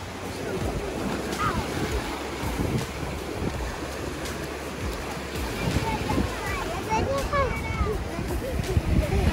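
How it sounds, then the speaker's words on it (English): Ocean waves break and wash up a beach in a continuous rumbling surge, with wind buffeting the microphone and voices talking nearby over the surf. "Big wave."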